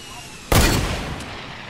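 A single loud, close gunshot blast in the Fortnite video game, cracking out sharply and decaying over about a second against a quiet background.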